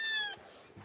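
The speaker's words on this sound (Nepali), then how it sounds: "बिरालो" A cat gives a single short, fairly clear meow at close range, followed by faint rustling and a quiet domestic room tone with no voices.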